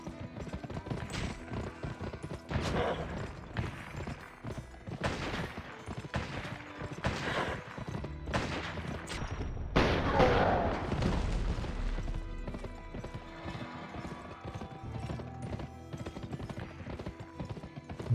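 Horses gallop in a western-themed video game, with rapid hoof clip-clop running through most of the stretch, along with scattered gunfire and a whinny. Game voices speak over it.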